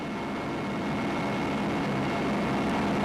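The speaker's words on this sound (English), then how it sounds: "aging Russian cargo helicopters act like taxis, moving scientists and adventure travelers all over the top of the world" An aging Russian cargo helicopter drones steadily with a loud, continuous engine and rotor rumble that stays even throughout, with no voices over it.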